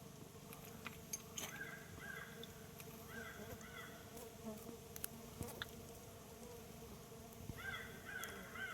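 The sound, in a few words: stingless bee colony buzzing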